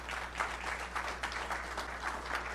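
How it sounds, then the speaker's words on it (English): Applause from an audience at a community forum, steady and moderately distant, with a low constant hum beneath and no voices. "So let's give him a big round of applause"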